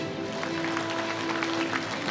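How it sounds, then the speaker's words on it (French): Audience at an innovation award ceremony clapping in a moderate, continuous patter beneath a steady humming tone from the hall's sound system. "Encore une fois, sous vos applaudissements."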